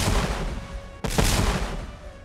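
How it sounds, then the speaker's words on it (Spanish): Cannon, pistol and rifle fire in a fierce battle, a dense continuous roar of gunfire with a sharp blast cutting in midway, loud and close. "Nuevamente los cañones, los petardos, las pistolas y los fusiles"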